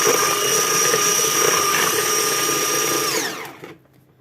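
An electric mixer whirs steadily through revani batter of oil, semolina and poppy seeds, a loud continuous drone that winds down and stops near the end.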